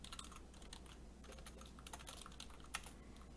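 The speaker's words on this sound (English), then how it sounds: "all we're going to do is type in Docker version" Typing on a computer keyboard at a Windows command prompt, a quick run of light clicking keystrokes, close but quiet, with no voices.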